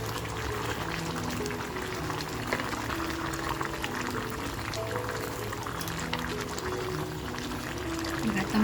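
Hot water runs into a pot of fried mutton masala with a continuous bubbling, gurgling pour that is close and fairly loud. It carries on steadily to the end, and no words are spoken.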